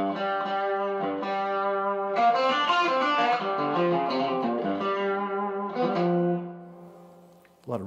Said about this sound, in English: A lot of reverb going on